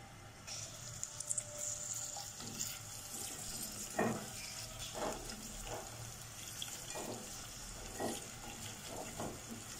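Onions frying lightly in about three to four tablespoons of oil for a bhindi gosht curry, giving a soft, steady sizzle broken by a few quiet stirring clinks against the pan.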